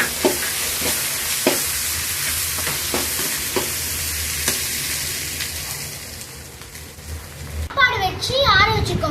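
Masala, sauces and vegetables sauté in a pan for homemade mixed fried rice with mutton, chicken, egg and prawn, giving a steady close sizzle with repeated stirring scrapes, then a louder burst of frying near the end.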